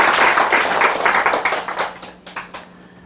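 Clapping from a lecture-hall audience, a short burst of scattered hands that thins out and fades over a few seconds.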